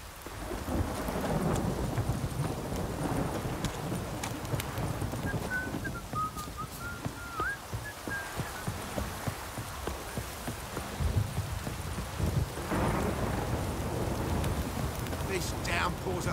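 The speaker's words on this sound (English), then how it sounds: "This downpour's a bastard" Heavy downpour in The Witcher 3 video game, a steady, loud rush of rain with deep thunder rumbling underneath throughout.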